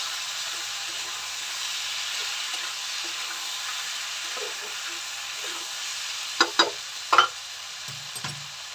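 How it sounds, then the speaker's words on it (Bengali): Vegetables frying a little at a time in a pan for a fish-head shukto, a steady soft sizzle running throughout, with a few sharper stirring clinks and scrapes near the end. "সমস্ত সবজি ভেজে নিচ্ছি একটু অল্প করে।"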